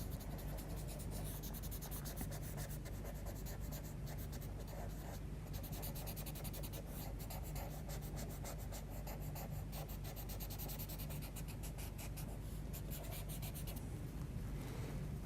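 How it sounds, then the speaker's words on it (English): A paper stump blends pencil or charcoal shading on drawing paper, producing a soft, continuous close-up rubbing and scratching texture that stays steady throughout. "we'll use the paper stump and just blend that in a bit"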